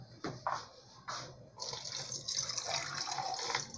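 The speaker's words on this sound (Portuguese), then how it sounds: "Agora eu vou cobrir com água." Water pours from a tap into a small pan to cover glass preserving jars, first in short splashing bursts and then as a steady close trickle, with no talking.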